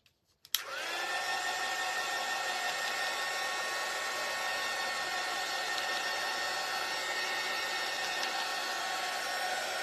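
Steady hair dryer blowing continuously at close range after a brief click at the start, used to dry painted wooden pieces from a heart stand craft kit; constant whooshing airflow with a motor whine, no talking.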